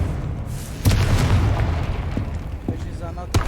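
Confringo spell blasts in Hogwarts Legacy, a sharp booming burst near one second followed by smaller pops and a final crack, over busy game ambience with a voice talking.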